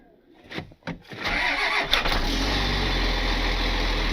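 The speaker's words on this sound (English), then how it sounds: "Then I pushed the clutch down and it like instant fired" A 4x4 wrecker truck engine cranks briefly with a couple of short turnovers, then fires and settles into a loud, steady, rumbling idle close by.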